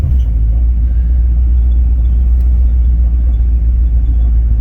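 A 1970 Chevy C10 Suburban rolling down a hill, heard from inside as a loud, steady low engine and road rumble with no break.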